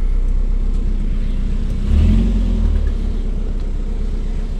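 A 1989 Chevy S10 Tahoe engine cranks and catches, a swell of low rumble about midway that settles into a steady idle hum.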